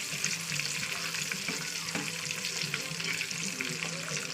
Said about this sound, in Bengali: তো হালকা করে ডিমটা ভেজে দেবো।